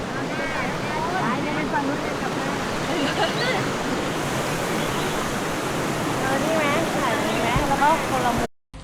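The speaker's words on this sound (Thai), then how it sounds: "เขามีลำธารเนี่ยนะ" A stream flows near a forest temple in Chanthaburi, Thailand, a steady broadband rush of water that stays close and constant while people talk over it, cutting off abruptly at the end.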